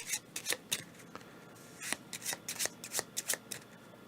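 Game pieces or cards being shuffled and handled on a tabletop during a solo board game session, a run of crisp, rapid riffling bursts with short pauses between them, close and fairly quiet with no talking.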